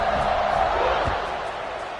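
A crowd roars at a college football game between BYU and UCLA, a dense, steady wash of cheering and noise that fills the whole moment and fades slightly toward the end.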